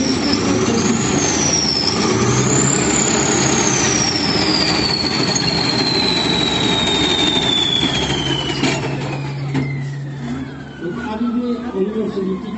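A Soviet armored military vehicle from the early 1970s running at a tank museum demonstration in Saumur, its engine a steady loud rumble with a whining tone that falls in pitch, while someone talks over it.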